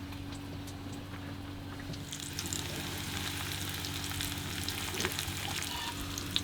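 Panko-crumbed herring shallow frying in a pan aboard a boat anchored in a seal colony, giving a steady close sizzle with faint crackles over a low, constant engine or generator hum.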